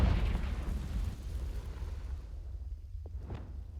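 Confringo blasting spell detonating in Hogwarts Legacy: a broad rumbling burst that fades out over a few seconds, followed by a couple of faint sharp crackles near the end.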